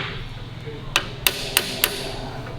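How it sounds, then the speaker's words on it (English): Four sharp metallic taps, evenly spaced about a third of a second apart, as a part is hammered into place on a Harley-Davidson WLA motorcycle. The hits are close and crisp over a quiet room hum. "tap that through a little bit more so it locates"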